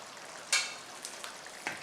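Shrimp and sausage sizzling in a pan, a soft steady frying hiss with a few brief scraping stirs of a spoon, close and fairly quiet.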